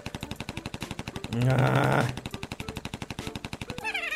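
Rapid machine-gun fire from the Troll Face Quest TV Shows video game, a dense steady burst of shots running almost the whole time, loud and near, with a brief louder blast in the middle and a short spoken word.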